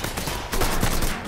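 Gunfire in the Mafia 3 video game on PlayStation 4 Pro, a dense burst of rapid shots with a louder stretch in the middle, close and continuous with no voices.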